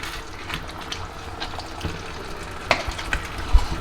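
Chicken curry is stirred in a single pot, a soft wet scraping and bubbling simmer with occasional sharper clinks of the spoon against the pot near the end.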